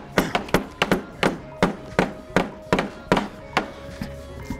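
A medicine ball thrown in rapid-fire chest presses during a workout lands in about a dozen sharp, evenly spaced thuds, loud and close with no talking.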